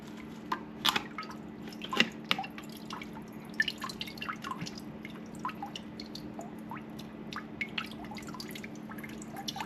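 Water drips and trickles from rinsed carbon filter sponges of an Oase pond pre-filter, with irregular close, small splats and soft squishes over a low, steady hum, no voices.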